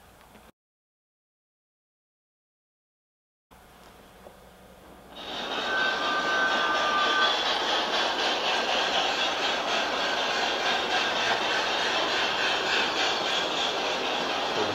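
An LGB garden-scale model train runs through an automatic block section, held back and released by hand. After a quiet opening, a steady, close rolling hum of the running train starts and continues unbroken to the end.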